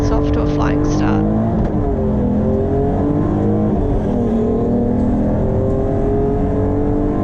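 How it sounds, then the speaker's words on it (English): Race car launching off the grid at the start of an ERC race at Taupo, its engine revving hard with rising pitch sweeps through the gears, loud and close, with other cars audible behind it. "Kel launches the car well and gets off to a flying start."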